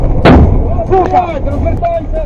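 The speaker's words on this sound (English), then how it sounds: "On the way back, there was another explosion, probably caused by a PTM-3 mine." A blast, probably a PTM-3 anti-tank mine going off under a military vehicle, gives a sharp, loud burst followed by rumbling and distorted noise, with voices heard afterward.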